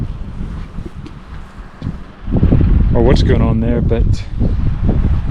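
Gusty wind buffets the microphone in a steady low rumble at a high spot near a monument in Croatia, with a person talking over it for most of the stretch.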